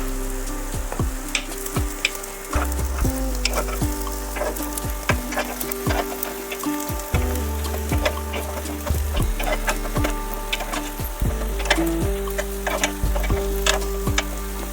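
Fasting appe sizzle in an appe pan after being flipped, a steady close crackle of frying with repeated light clicks and taps of a utensil against the metal, without talk.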